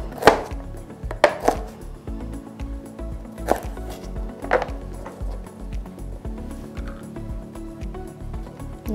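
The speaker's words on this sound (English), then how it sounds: "Tutaanza kuandaa hizi mboga mboga ambazo ni green beans. Tutakata vipande vidogo." Green beans being chopped into small pieces with a knife on a board, a handful of sharp, irregular cuts close by over quiet kitchen background.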